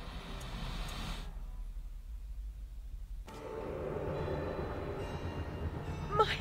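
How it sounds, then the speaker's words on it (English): Train rolling along in Alice: Madness Returns, a steady rumble that drops out briefly and then returns louder, with a faint high squeal near the end. "My Lizzie, what is this train's destination"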